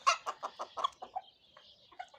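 A Denizli rooster, a breeding cock, gives a run of loud close clucking calls followed by softer trailing notes, heard alone without talk.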